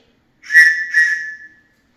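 A tiny survival whistle from an advent calendar, blown softly in two short, shrill blasts with a train-whistle-like, oddly pitched tone; the second blast trails off, alone and close.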